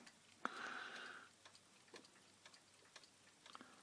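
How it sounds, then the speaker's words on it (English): A newly mounted wall clock with finials top and bottom and a 31-day movement ticks steadily and softly at close range, after a brief brighter whirring chime-like sound near the start. "Ticking well."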